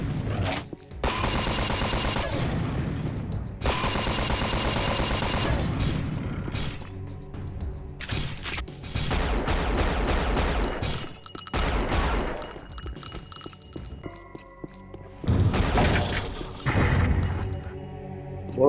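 Repeated explosive weapon blasts from the rocket launcher in Unreal: Return to Na Pali, the PC shooter, fired in dense bursts through most of the stretch with brief pauses, loud and close amid game action.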